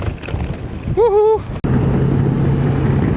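Strong wind buffets the microphone at Vestkapp on Norway's North Sea coast, a continuous rough roar with a brief voice rising above it midway.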